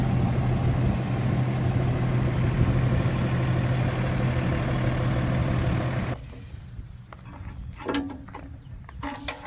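A garbage truck idles in a steady low rumble for about six seconds, then the engine noise drops away, leaving quieter scattered knocks and rustles.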